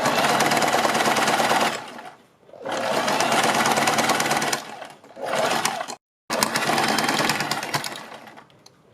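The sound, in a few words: sewing machine stitching a kurti neck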